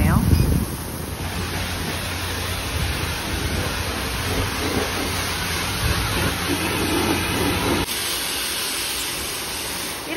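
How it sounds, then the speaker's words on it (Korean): A self-service car wash wand sprays a Torres SUV in shower mode, producing a steady, dense hiss of falling water that continues with a brief shift near the end, while people talk. "샤워 모드로 헹궈내주네요."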